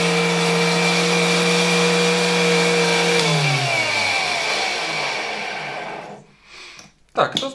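A 1963 Gamma II vacuum cleaner motor hums steadily and loudly, then winds down with a falling pitch as it switches off, followed by a few handling bumps.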